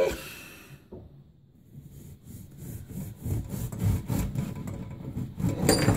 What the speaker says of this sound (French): Je vais vous le couper en fait. Donc je vais vous le découper.